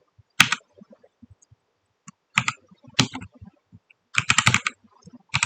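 Computer keyboard typing while writing Python code, short clustered bursts of crisp key clicks separated by quiet gaps, with one faster flurry near the end and no voices.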